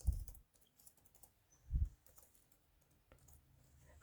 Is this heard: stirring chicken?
no